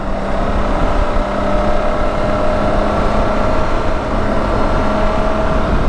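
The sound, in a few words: Suzuki K16 GSX-R motorcycle exhaust crackling at high RPM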